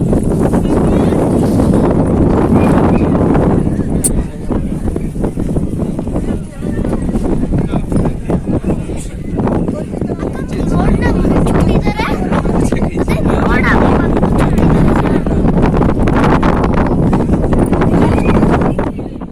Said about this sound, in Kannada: ನೋಡಿದ್ರಲ್ವಾ ಎಷ್ಟು ಜೋರು ಗಾಳಿ ಅಂತ, ನಿಂತ್ಕೊಳ್ಳೋಕ್ಕೆ ಆಗ್ತಿರಲಿಲ್ಲ